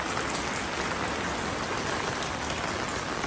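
Steady rain pouring onto a rooftop, a dense, even hiss of drops drumming on surfaces, loud and unbroken with no voices.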